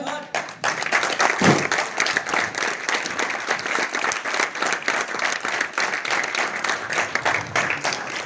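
An audience of cadets claps at a college talk, producing continuous, fairly loud applause that swells and persists for several seconds.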